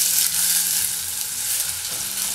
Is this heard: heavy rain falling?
no